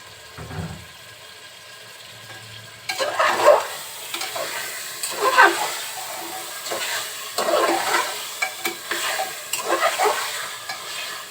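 Beef pieces stir-fry with spices in a pan: a brief clatter, a quiet pause, then loud bursts of sizzling and scraping stirring in repeated waves, close by.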